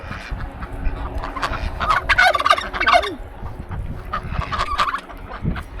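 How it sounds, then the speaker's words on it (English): Turkeys gobbling in rapid rattling bursts amid a noisy yard of ducks, geese, roosters and chickens on an old island parade ground, near and loud, with continual overlapping fowl calls and honks. "Ducks, geese, roosters, chickens,"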